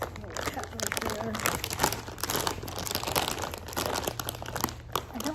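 A chip bag is crinkled and handled before being cut open, giving a dense stream of close, crackling plastic rustles with brief crunchy bursts while someone talks over it.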